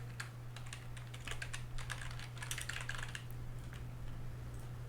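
Someone types text into a form on a computer keyboard while building an Excel form, with quick, irregular clusters of key clicks heard up close for several seconds over a steady low electrical hum.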